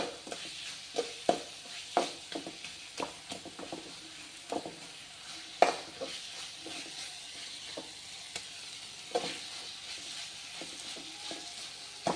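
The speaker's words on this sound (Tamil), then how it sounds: "கிரேவி மாதிரி தக்காளி வதங்கணுங்க" Tomatoes sautéing in a pan for a gravy, a steady close sizzle with scattered pops and crackles and occasional stirring sounds, with no talk.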